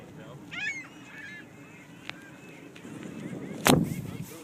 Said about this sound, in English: Seagulls make weird sounds.